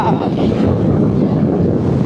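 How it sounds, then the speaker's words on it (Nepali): Strong wind along the Kaligandaki Corridor buffets the microphone in a loud, continuous low roar that lasts about two seconds. "मलाई उडाउला है हावाले"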